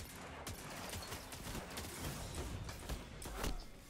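Gunfire in Destiny, a quick run of sharp shots, some spaced and some clustered, heard at moderate distance in a busy, noisy game mix without speech.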